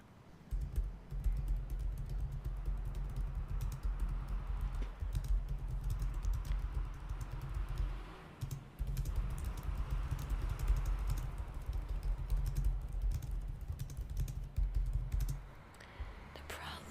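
Soft, steady keyboard typing as notes are written down, a continuous pattering of keystrokes, close and quiet, with a faint low hum beneath.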